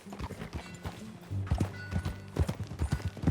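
Horse hooves clip-clopping at a steady walking rhythm in the Western video game Red Dead Redemption 2, close and clear, with a low ambient drone underneath and no talking.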